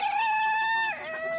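Loud, drawn-out crowing and squawking from birds in a nearby chicken coop, one long call followed by another slightly lower, close and clear with no speech.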